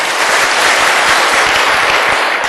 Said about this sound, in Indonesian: ojo gak yakin nih, tepuk tangan benar-benar ya.